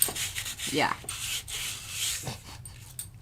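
Sandpaper rubbed by hand across a painted art surface, a few rough scratchy strokes, close and moderately loud, with a brief voice-like sound among them.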